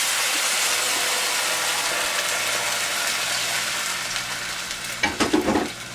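Venison and other ingredients fry in a large casserole with a steady, loud sizzle close by, and a few clattering stirs come near the end.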